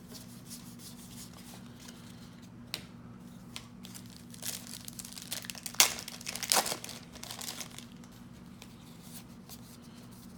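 Packs of 1991 Score hockey cards are torn open and handled, giving soft crinkling and rubbing of wrappers and cards up close, with a sharper burst of tearing and crackle midway over a low steady hum.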